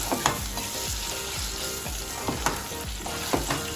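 Mutton with onions frying in a pan for a curry, a loud continuous sizzle broken by regular scraping stirs about every half second, with no talking.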